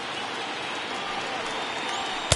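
A big baseball stadium crowd of over 39,000 stands and roars during a Seattle Mariners game, a steady wash of cheering and applause that holds evenly loud throughout and swells sharply at the very end.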